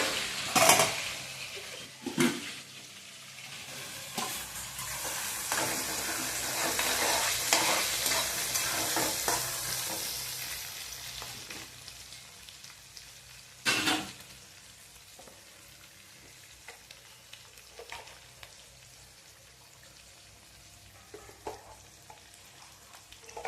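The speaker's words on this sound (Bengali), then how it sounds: "এই দেখো ফোড়ন দিয়ে দেবো জিরে, তেজপাতা, টমেটো, আর এই যে এবার মশলাগুলো যাচ্ছে" Cumin, bay leaf, tomato and ginger-garlic paste sizzle in hot oil in a home kitchen, crackling loudly at first, then a softer continuous fry with spoon stirring and scraping against the pan.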